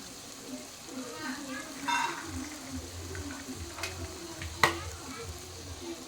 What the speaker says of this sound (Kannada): ಫ್ರೈ ಮಾಡಿಕೊಂಡು ಇವಾಗ ಹೆಚ್ಚಿಟ್ಟಿರುವಂಥ ತರಕಾರಿನ ಹಾಕ್ತಾಯಿದ್ದೀನಿ